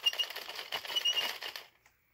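An Addi Express knitting machine is cranked through one pass with no yarn, giving a quick run of light, close plastic clicking that stops abruptly after under two seconds.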